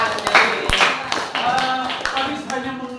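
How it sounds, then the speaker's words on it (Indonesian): Students applaud in a classroom during a front office lesson, a ragged burst of overlapping hand claps mixed with voices talking over it, fairly close and steady throughout. "Tepuk tangan untuk itu."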